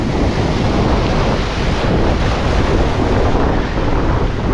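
Ocean waves break on a Palawan shore in a steady, loud roar of surf, with heavy wind buffeting the microphone throughout and no voices.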